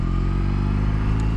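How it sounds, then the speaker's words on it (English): The boxer engine of a BMW R18 motorcycle runs at a steady, even idle, a close and fairly loud continuous throb with no voices. "this is my first BMW motorcycle, my first boxer engine"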